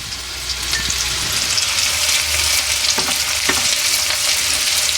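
Minced meat keema sizzles loudly in a pan with ginger garlic paste while being made into a Telugu-style keema mutti iguru, a steady dense crackle with a few stirring scrapes partway through.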